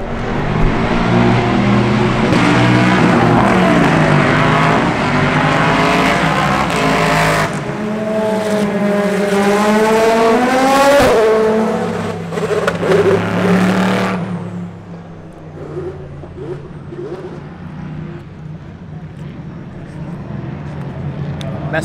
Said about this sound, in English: all the cars have been going past slower than normal, so you get a real good look at them